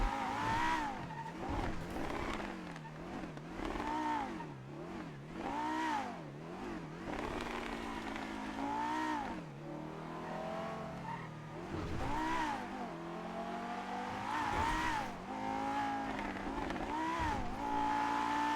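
Cars in GTA NoPixel driving hard, engines revving up and down in repeated swells with tire squeal and skidding, loud and continuous.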